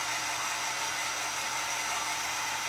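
A hair dryer blows steadily on craft pieces for a spool and bead wreath, giving a constant close whirring hiss with no pauses and no talk.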